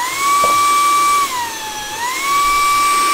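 A Wyze handheld vacuum blows air in a steady, high-pitched motor whine that dips briefly in pitch midway, then rises again, close and continuous with no talking.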